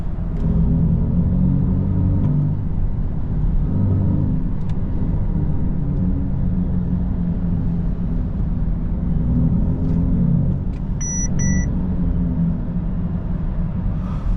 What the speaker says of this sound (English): We are right now with the performance, but you can also go with the authentic sound.